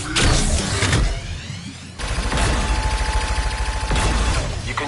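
Gunfire from shooting down targets in a mech-rig video game, dense rapid bursts of loud, close shots over mechanical whirring, with a short pause before firing resumes and continues steadily.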